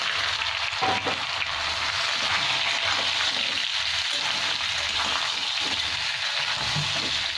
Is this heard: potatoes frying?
yes